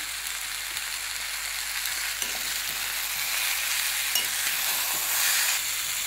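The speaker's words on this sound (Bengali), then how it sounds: "তো চলো এটাকে আমি একটুখানি নাড়তে থাকি, কষতে থাকি, আর তোমরা দেখতে থাকো।" Food is stirred and sautéed in a salted frying pan, giving a loud, close, continuous sizzle with soft scraping and shuffling as it is moved around, and no voices.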